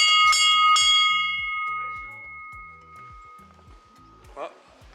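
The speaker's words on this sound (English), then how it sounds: "So I found this bell here, and this was used to alert the castle that invaders were coming." Two loud strikes of an old castle warning bell at Predjama Castle, a cave castle, ring out early and leave a long sustained hum that fades slowly, with a brief sharp knock near the end.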